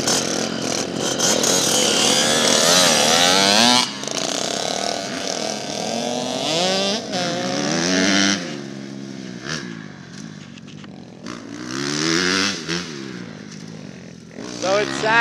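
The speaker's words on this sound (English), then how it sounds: "We're all on the pit bikes." Small pit bikes ride and rev on a dry track, their engines buzzing near and loud with rising and falling pitch sweeps, gaps between bursts, and people talking in between.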